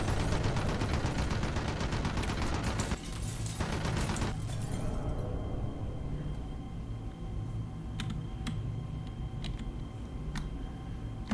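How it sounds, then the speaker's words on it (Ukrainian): Rapid bursts of gunfire in the video game Red Faction 2 crackle continuously, with dense automatic fire at first, then sporadic sharp shots over a steady background rumble. "звідки там стріляють"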